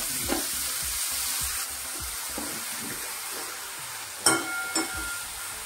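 Chopped dill leaves frying in a pan with onions and turmeric, a steady broadband sizzle with a few sharper clatters of stirring near the end, close and moderately loud with no talk.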